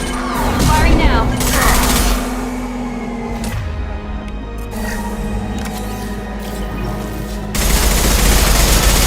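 Weapons fire in a Mass Effect 2 squad battle rattles in loud, dense bursts through most of the stretch, easing briefly in the middle before surging again, with a voice calling out over the shooting.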